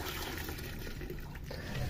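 Clean filtered water pours steadily into a drinking container on a rabbit farm, a continuous close splashing trickle lasting the whole moment.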